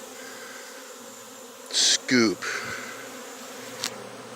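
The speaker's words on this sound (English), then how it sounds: "that was a shitload of bees" A swarm of bees being scooped into a box during a no-protection removal, their buzz a steady hum with a few loud bursts; someone speaks briefly close by.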